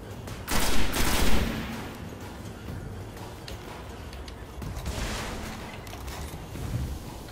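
Gunfire in the shooter Destiny rattles at a distance as a couple of rough bursts of shots, first near the start and again later, over steady ambient background noise.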